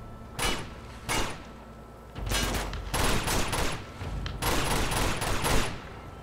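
Gunfire in the video game Uncharted 2: bursts of shots, two isolated blasts early on, then sustained rapid firing with loud, dense volleys throughout.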